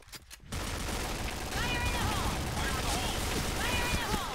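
Dense, rapid bursts of AK rifle gunfire in the video game Point Blank crackle continuously at close range, with a voice talking over the shooting.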